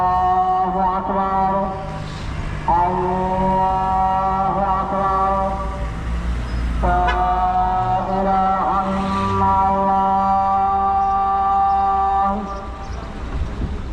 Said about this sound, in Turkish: ezan bakın böyle okunuyor Fas'ta. Türkiye'dekinden çok farklı. Cami şurada.